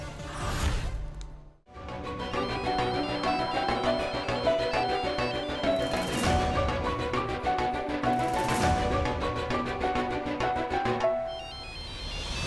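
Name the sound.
phone ringing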